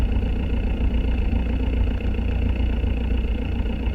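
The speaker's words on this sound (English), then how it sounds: "I'll do an engine run up here and I'll show you kind of how it works." A Glasair light aircraft's propeller engine runs up on the ground as a loud, steady, unbroken drone at close range for the whole stretch.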